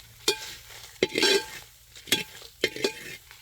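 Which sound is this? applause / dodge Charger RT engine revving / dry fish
dry fish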